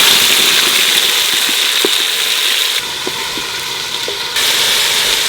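Onion paste fries in hot oil for a paya soup gravy, making a loud, continuous, close sizzle with occasional soft stirring knocks; the hiss briefly dips quieter partway through, then returns.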